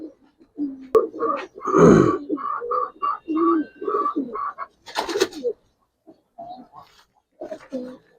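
Giribaz and coloring pigeons coo nearby in a string of short, throaty bursts with brief gaps, ending in a quieter stretch.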